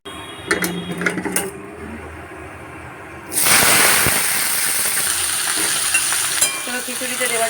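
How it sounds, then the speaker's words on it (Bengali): Vegetables for khichuri go into hot oil with a few clicks and clatters, then a loud, sudden sizzle bursts up and carries on as a steady hiss, close at hand. "খিচুড়িতে দেওয়ার জন্য সবজিগুলো ভেজে নিচ্ছি"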